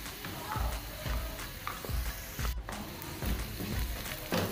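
Chopped onion sizzles in a pan with chopped ginger and garlic for a chicken dish, a steady close frying hiss broken by repeated scraping stirs at a regular pace.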